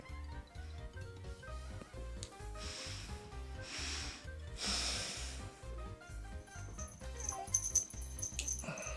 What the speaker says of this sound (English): There is a dog. Yes. It's you. Yes, it's in my face.